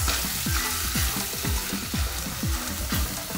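Chicken kachori filling with crushed red chilli and cumin being stirred in a hot pan: a steady sizzle carries a rhythmic series of scraping strokes, roughly two per second, close and even throughout.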